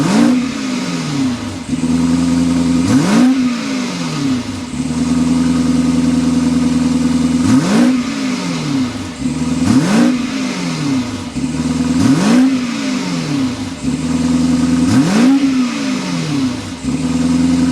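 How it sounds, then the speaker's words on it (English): The twin-turbo V8 of a 2022 BMW X6 M50i idles with a rumbling exhaust, then revs sharply again and again in quick blips, loud and close. "start it up so we can hear that exhaust now"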